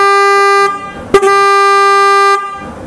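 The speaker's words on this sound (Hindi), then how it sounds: "अब इसका लो वाला हॉर्न हम लोग चला के देखते हैं" Imported Italian car horn, its low-tone unit sounding two loud, steady blasts separated by a brief gap, close and clear.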